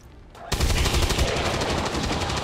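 A burst of rapid automatic gunfire erupts in XCOM 2 after a brief quiet, continuing loud and dense as a sustained rattling volley.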